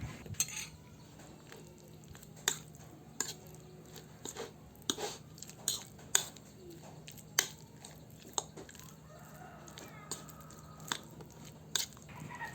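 All-purpose flour mixed with cornstarch and a little salt being stirred for crispy chicken fillet coating, faint and quiet, with scattered light taps and scrapes of a utensil at irregular intervals.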